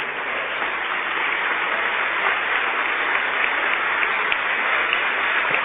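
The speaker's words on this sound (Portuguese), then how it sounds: "Pode vir, vamos aplaudir o Senhor." Steady, dense applause from a church congregation fills the whole stretch, an even wash of clapping with no pauses, fairly loud and close.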